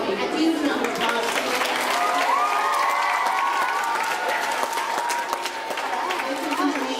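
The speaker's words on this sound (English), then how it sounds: "Freeman and Mrs. Yao a huge round of applause" A school awards audience claps steadily for about seven seconds, a dense, continuous patter filling the room, with murmured voices and a few cheers mixed into the applause.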